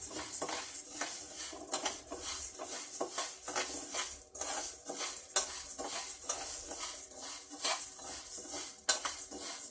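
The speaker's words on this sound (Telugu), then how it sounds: "వేసి 2 కలిపి చక్కగా మొత్తం వేయించుకుందాం." A utensil scrapes and clinks rhythmically against a pan as ingredients, with urad dal and jaggery among them, are mixed and fried, under a faint sizzle with steady repeated strokes.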